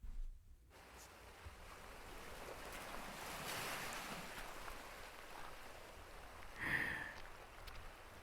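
Ocean waves wash onto a beach in a steady, breezy roar with wind buffeting the microphone, with one brief brighter splash surging near the end; no voices.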